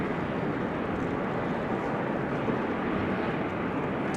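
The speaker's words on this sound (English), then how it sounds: "KLM 100 years, 787-10 Dreamliner is on the move" A KLM Boeing 787-10 Dreamliner moving at Amsterdam Schiphol gives off a steady, dense engine roar, a continuous broadband rumble with no break, heard alone.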